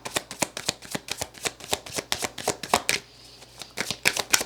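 A tarot deck is shuffled by hand in quick, sharp riffling bursts, a rapid rhythmic series of card slaps close up with a brief pause near the middle.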